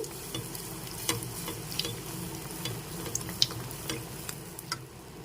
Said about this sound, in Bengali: আর একইভাবে মালপোগুলোকে ভেজে নিচ্ছি